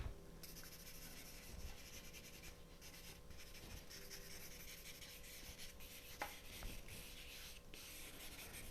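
Pencil strokes on paper while a human anatomy figure is drawn, a soft, close scratching and rubbing in uneven passes with brief pauses, quiet against a low room hum.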